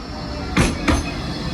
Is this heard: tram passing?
yes